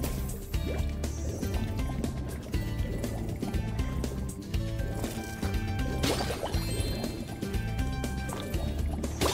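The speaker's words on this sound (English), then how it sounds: "Gotta throw some water in it." Water being poured to fill something in Spyro Reignited Trilogy, a sloshing, dripping liquid sound running continuously and loud, layered over dense game music.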